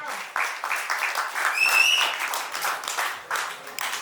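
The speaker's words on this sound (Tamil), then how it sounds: "எங்கள் பலத்த கரகோஷம்" Sustained audience applause fills a music launch event, a dense steady patter of many hands clapping at close range, with a few brief whistle-like tones rising above it midway.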